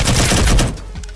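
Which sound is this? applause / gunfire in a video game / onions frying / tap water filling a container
gunfire in a video game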